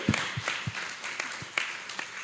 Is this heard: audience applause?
yes